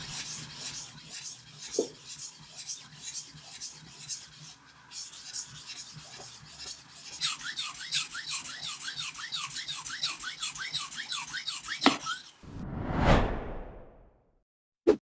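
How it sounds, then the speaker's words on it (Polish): Steady rasping strokes of a knife blade drawn across a wet whetstone, repeating rhythmically and close up, with a brief swish and a sharp tap near the end. "a jaki dźwięk słyszymy, jak ostrzymy na mokrym kamieniu"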